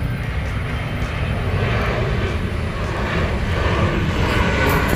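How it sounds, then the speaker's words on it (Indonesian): A fixed-wing airplane drones steadily overhead, loud and continuous, its engine roar filling the whole stretch with no talking. "Ini ada pesawat teman-teman,"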